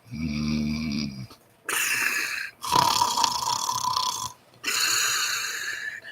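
A voice imitating snoring, a few loud drawn-out rasping snores separated by short pauses, close and alone.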